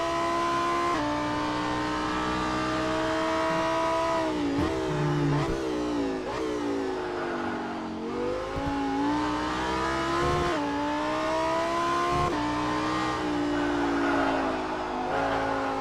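A Lamborghini Super Trofeo race car, the number 1 car, sounds from onboard at Laguna Seca with a loud, continuous engine note that rises through the gears and dips sharply on each shift and under braking, without talk.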